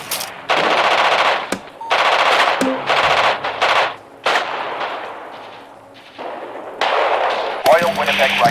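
Machine gun fire in the Radio General war game comes in several long, loud automatic bursts separated by short gaps, with heavier thuds mixed in and a voice faintly underneath.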